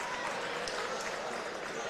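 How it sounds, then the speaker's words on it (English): Travelling fans from Missouri applaud their team late in a prep basketball game between Rockhurst and Jesuit, a brief wash of clapping from a gym crowd at moderate distance, steady throughout with no speech over it. "The fans that have made the trip here from Missouri applauding their team."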